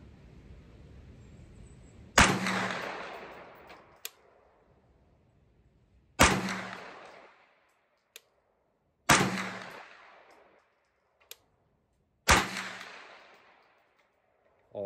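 Shots from an Anderson AM9 9mm pistol-caliber carbine fired at a 200-yard target: four sharp, loud reports spaced a few seconds apart, each trailing into a fading echo, with faint distant impact ticks between them.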